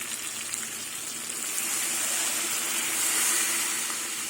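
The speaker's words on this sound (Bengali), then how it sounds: "কষানো হয়ে গেছে এবার জল দিয়ে দেবো" Water poured into a pan of cooked-down poppy-seed curry being made with duck-egg omelettes, a steady rushing hiss and gush that swells slightly midway and continues unbroken, close and alone.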